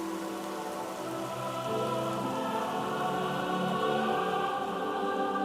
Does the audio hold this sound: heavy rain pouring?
yes